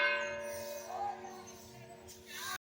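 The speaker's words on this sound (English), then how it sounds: "I had to take a break from the bells that were ringing." Church bells ring on a Sunday morning in a layered, sustained peal, their overlapping tones resonating at moderate volume before cutting off abruptly.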